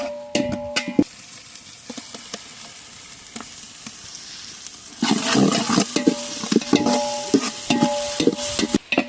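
Ginger-garlic paste sizzles as it is fried in a pan with onions and chili for a village chicken biryani, the frying roaring louder midway, with sharp scraping and stirring clatter over the hiss.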